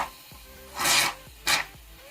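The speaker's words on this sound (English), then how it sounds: "shaving cream." Shaving cream sprays from a can into slime in two hissing bursts, the first longer and the second short, close and fairly loud in a quiet room.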